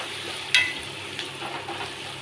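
Garlic cloves frying in a pan for a tamarind chutney, giving a steady close sizzle with a sharp scrape of stirring near the start and softer stirring afterwards.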